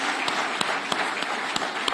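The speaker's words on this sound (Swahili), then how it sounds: "Wapige makofi yao warembo jameni." Audience applause for Kenyan athletes Mary Moraa and Faith Kipyegon, a steady wash of clapping with a few sharper claps standing out, fairly distant and continuous throughout.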